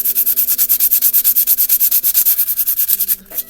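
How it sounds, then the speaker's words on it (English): Sandpaper rubbed back and forth over a plastic lid, a steady run of about thirty quick, close, loud scraping strokes that break off briefly near the end. "you use sandpaper on there and just kind of sand it as much as you can"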